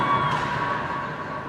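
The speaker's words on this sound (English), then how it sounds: "but it's a rowdy crowd." Rowdy crowd cheering at a high school hockey game between Rampart and Woodland Park, a steady dense roar of voices filling the arena with no clear breaks.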